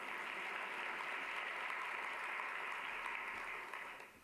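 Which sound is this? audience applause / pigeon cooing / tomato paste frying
audience applause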